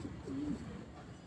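A pigeon on a rooftop gives a single short, soft coo over a low background murmur.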